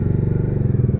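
A motorbike rides through a narrow brick-paved lane in Bhaktapur, its engine thumping in a fast, pulsing rhythm, loud and close, ending in a short clatter.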